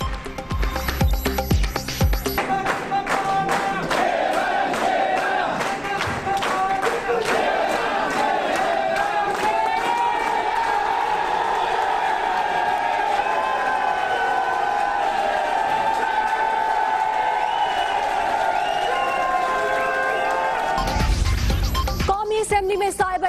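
A crowd in a hall chants slogans at Nawaz Sharif's arrival, with loud rhythmic massed voices and cheering sustained throughout at close range, with a newsreader's voice at the start and end.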